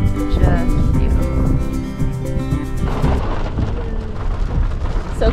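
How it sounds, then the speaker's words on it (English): Heavy rain pours down as a storm rolls in, a dense steady roar of falling water with thunder-like rumbles underneath and people talking over it. "It's raining."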